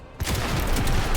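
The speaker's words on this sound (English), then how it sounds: "So we can move forward and take some laser shots." Laser weapon shots fired in a sci-fi tactics video game, a sudden loud burst of rapid crackling fire that starts abruptly and holds as a dense, continuous volley.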